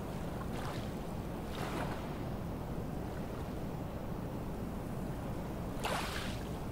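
Ocean waves wash in a steady, soft, continuous roar, with a few louder swells rising and breaking at intervals, and no talk over them.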